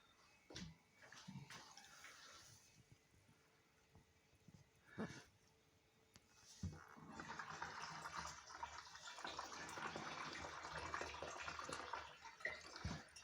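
Brown sugar wash siphoned off in a home distilling setup: a few faint knocks and handling noises, then a steady trickling, gurgling flow of liquid that continues for several seconds.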